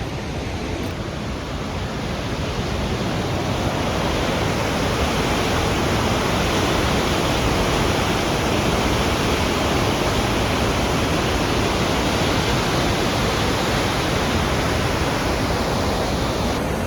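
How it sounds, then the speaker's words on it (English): Upper Wallace Falls in Washington roars as a steady, loud broadband rush of falling water throwing up heavy mist, unbroken and constant throughout with no voices. "Let's go soak in this Upper Falls waterfall."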